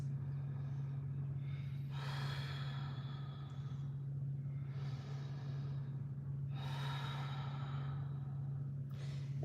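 Slow, deep breaths drawn during a yoga twist pose, two long airy inhale-exhale cycles close to the microphone over a steady low hum, with no speech.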